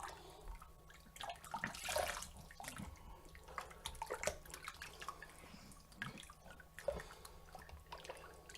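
A razor is rinsed under running water at a sink, with faint splashing, drips and trickling in irregular bursts, quiet and close.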